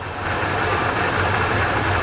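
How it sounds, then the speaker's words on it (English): A Ford car engine running rough and sputtering as its fuel pressure drops with an injector unplugged, a steady close-up idle rumble with no voices. "The engine is sputtering,"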